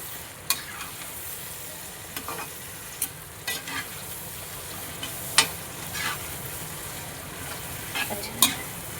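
Masala for a changezi gravy sizzles and fries in a pan, a steady soft hiss broken by sharp, irregular clinks of a spoon stirring and scraping, close and moderately quiet, with no voices.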